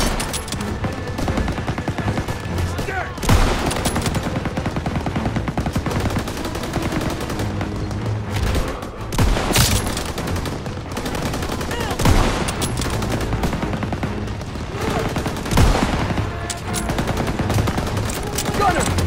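Sustained MG-42 machine gun fire in the World War II shooter Call of Duty: WWII, a loud continuous rattle with periodic louder blasts, layered with battlefield noise and occasional shouted voices.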